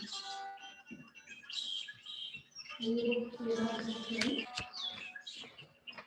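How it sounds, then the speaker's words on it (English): Bird chirps and calls form part of a gallery exhibition soundscape, scattered high tweets mixing with music and a fuller passage midway, heard at modest volume in a room. "I hope you can hear the music that Caelen has written and the bird sounds that accompany it."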